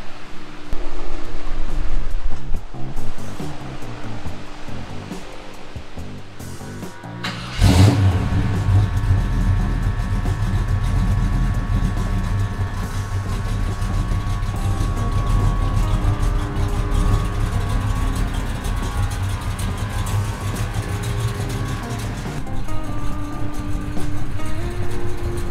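A patina classic truck with a narrower wheel and tire setup, its engine catching after a quiet opening and then running loud and close in a steady, throaty rev that holds to the end.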